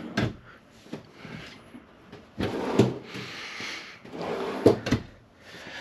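Drawers in a 2022 Winnebago Micro Minnie 2306BHS travel trailer slide open and shut several times, each pass ending in a close, solid wooden thump.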